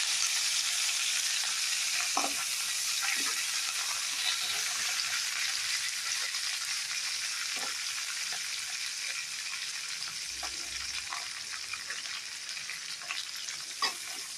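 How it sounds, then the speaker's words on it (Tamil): Chopped onion, garlic and curry leaves sizzle and fry steadily in a hot pan, a continuous close hiss broken by a few faint stirring clinks, with no voices. "நல்லா வதக்கி விட்டுக்குங்க."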